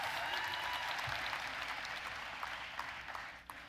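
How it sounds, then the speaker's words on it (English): An audience applauding steadily, a dense wash of clapping that gradually thins out toward the end. "Give yourself a round of applause, baby."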